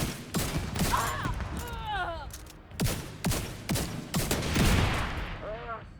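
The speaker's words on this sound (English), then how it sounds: "Firing RPG!" Gunfire and an RPG launch in The Division 2 during a firefight while being flanked: repeated sharp bursts and blasts with a loud, dense midsection, with voices and radio chatter mixed in.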